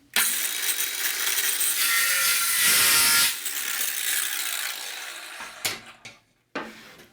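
A hand-held power saw makes a 45-degree cut in wood, its loud continuous whine and rasp lasting about five seconds before winding down, followed by a couple of brief knocks.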